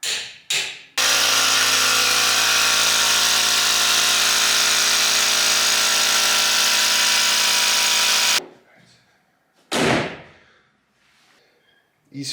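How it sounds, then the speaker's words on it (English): A power tool torquing up the wheel nuts on a Mitsubishi Evo X, loud and close, with a short burst, then a long steady high whine of about seven seconds, followed by a few brief mechanical clacks and rattles. "let's just torque up them wheel nuts"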